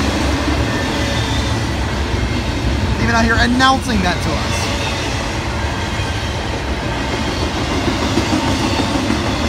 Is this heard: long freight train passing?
yes